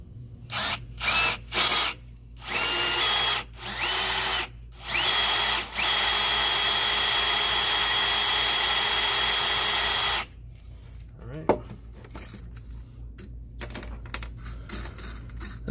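A power drill bores a hole during a BMW E36 offset FCAB modification: several short whirring bursts, then one long sustained run, loud and close, followed by quieter clicks and handling noises.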